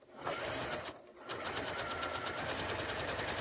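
A sewing machine runs steadily, stitching the hem of a hat, with a brief pause near the start before the motor's rapid, even whir resumes and carries on close and moderately loud.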